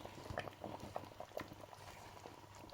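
Palm nut sauce with crabs simmers in a pot over medium heat with soft, steady bubbling and small popping blips. The sound is quiet and close, and no one speaks.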